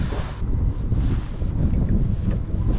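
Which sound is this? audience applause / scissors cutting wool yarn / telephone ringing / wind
wind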